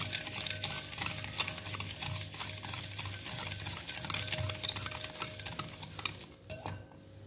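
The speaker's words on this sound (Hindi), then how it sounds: "मिक्स कर लेते हैं।" Banana pancake batter with egg and salt being whisked in a bowl, a rapid repetitive scraping and tapping of utensil against the dish, fairly quiet and continuous, with a few sharper clinks near the end.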